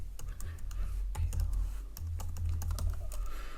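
Fingers tap out a password on a computer keyboard in quick irregular bursts of clicks, close and clear, over a low steady hum with no talking.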